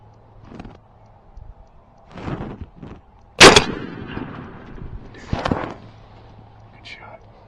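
A single loud, sharp rifle shot rings out during a hunt in Oklahoma, cracking close by amid quiet murmured voices before and after.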